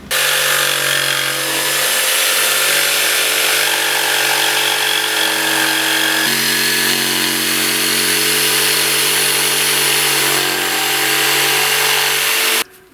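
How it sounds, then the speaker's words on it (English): Jigsaw cutting through wood while building a small table loom, a loud, steady buzzing drone that runs almost unbroken for the whole stretch, close to the mic and with no voices over it. "then we'll cut it out with a jigsaw."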